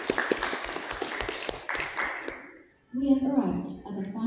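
An audience at a debate round claps in a burst of applause, close and fairly loud. The clapping fades out after about two and a half seconds, and a voice then speaks.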